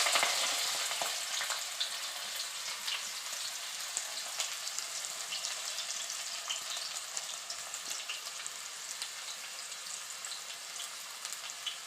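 Onions fry in hot oil in a pan for a middle-class style chicken curry, a continuous close sizzle with sharp pops and crackles scattered throughout, no talking.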